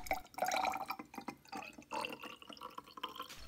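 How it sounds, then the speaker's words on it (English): Water is poured into a glass measuring cylinder, filling it to the 100 millilitre mark in a laboratory setting, with bright trickling and splashing in uneven bursts, close and fairly quiet. "followed by enough water to fill up the measuring cylinder to the 100 milliliter mark"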